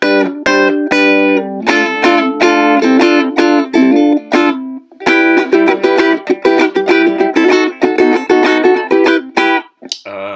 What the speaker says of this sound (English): go straight to electric guitar, which you'll hear gives it a sort of twangier